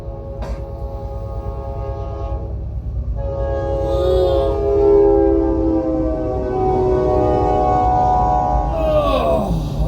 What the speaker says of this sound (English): There's an incoming train